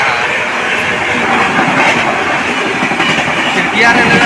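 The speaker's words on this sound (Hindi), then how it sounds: "ट्रेन को और भी पासिंग दिया जा रहा है।" A train passes on the railway near Khiriya station in India, a loud, continuous rumbling roar with faint clatter of wagons, heard from close by, with some voices underneath.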